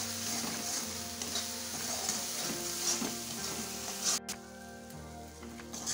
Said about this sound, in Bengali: তেলটা ছেড়ে আসছে, আর একটু কষিয়ে নেব